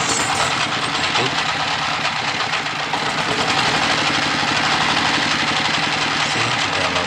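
A reassembled diesel engine runs steadily after an overhaul, giving a loud, continuous knocking rumble with dense mechanical clatter throughout, close to the microphone and without pause.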